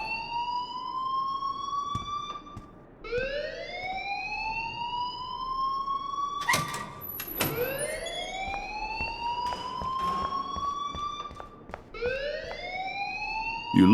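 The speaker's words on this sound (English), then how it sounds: "please turn off that alarm since that's your job" A wailing, rising electronic fire alarm in Life is Strange sounds in repeated sweeping cycles, loud and steady with no voices over it.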